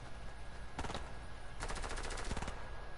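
Video game gunfire, with two rapid bursts of automatic fire, a short one and then a longer rattling volley, loud and close over a steady background hum.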